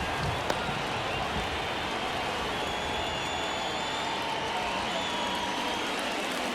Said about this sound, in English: Looks like the weather could actually play a factor in this one. It's coming down pretty good.